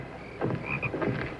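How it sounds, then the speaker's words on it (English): Frogs croaking inside a barn, two close, throaty bursts of croaks about half a second apart, with a brief higher chirp between them. "The frogs are in the barn."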